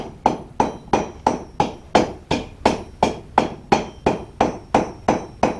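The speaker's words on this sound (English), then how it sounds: "And to do that, you just hammer and rotate." Steady, evenly spaced hammer strikes on hot iron as a blacksmith forms a nail, about three per second, each with a short bright ring; no voices.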